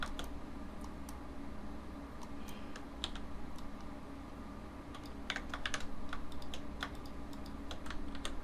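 Quick key presses and clicks on a computer keyboard while working through shortcuts in Blender, light tapping bursts over a steady low room hum.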